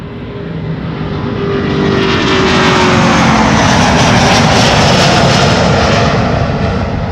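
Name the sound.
Delta Airlines Airbus A330neo jet to New York JFK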